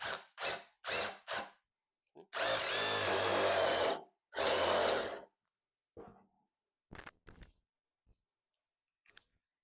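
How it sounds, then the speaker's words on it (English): A power drill fitted with a paddle bit bores a hole through a wooden 2x6 joist in two loud, close sustained runs, preceded by a quick series of clicks and followed by scattered small knocks. "Let's drill a hole in this wood."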